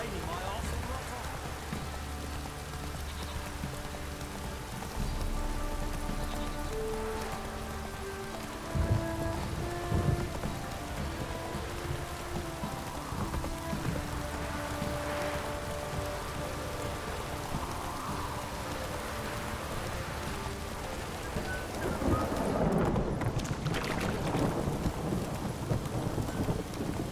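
Steady rain pours and thunder rumbles in The Witcher 3: Wild Hunt, a continuous hiss of rainfall with low rolling thunder surging in places, while game music and occasional character voices sit underneath.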